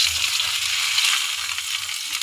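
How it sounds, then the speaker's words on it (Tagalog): Chicken nuggets tipped into hot oil for a home-cooked meal, giving a steady, close bubbling sizzle with faint stirring that holds evenly throughout, no voices. "Buhos lang natin yung nuggets."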